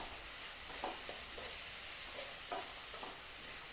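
Chopped green chillies sizzling in hot coconut oil while cooking wheat pasta, a constant bright crackle with a few soft stirring scrapes, fairly quiet and without talk.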